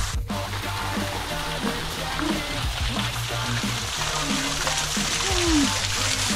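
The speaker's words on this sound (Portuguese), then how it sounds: "Cachoeira do Elo Perdido." Water from the Cachoeira do Elo Perdido falls in a steady hiss and patter, a continuous wash close by with faint low tonal sounds beneath.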